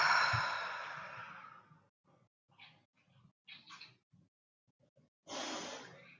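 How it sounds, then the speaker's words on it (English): A long, slow deep breath drawn in and released during a live guided meditation, heard alone and close, followed by faint shuffling and soft noises before another breath begins. "And take another deep breath."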